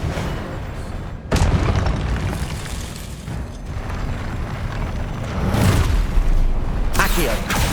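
The Expelliarmus spell is cast in the video game Hogwarts Legacy, with a sudden booming magical burst followed by rumbling impact noise and further blasts, loud and close, with a voice speaking over parts of it.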